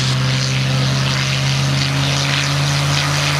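A P-51 Mustang's piston aircraft engine runs up loud and close, a steady, powerful droning roar with propeller buzz holding constant throughout.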